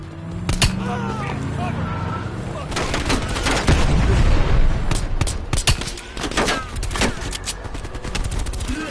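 Pistol gunfire in a Call of Duty game, repeated sharp shots in an irregular rhythm among other explosions and battle noise, loud and close throughout.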